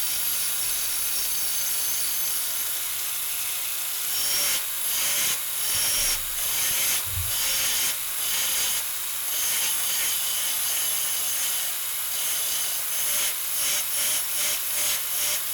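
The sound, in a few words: belt grinder rounding tips of steel hammer drift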